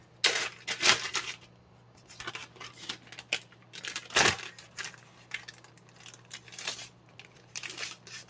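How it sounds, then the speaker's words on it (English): Plastic bag crinkled and handled in a kitchen while making beet tortellini filled with mushrooms and goat cheese, giving irregular close rustling bursts and crackles over a low steady hum, with no talking. "Plastic bag."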